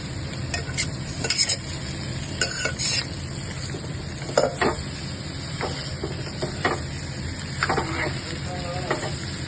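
Potatoes sizzle in a hot pan while being stirred, with a steady frying hiss under intermittent scrapes and clinks of a utensil, close up with no voices.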